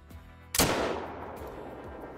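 A single loud rifle shot fired at a lion from about 350 yards while hunting in Africa in the Call of the Wild game, sharp crack followed by a long echoing rumble fading across open terrain.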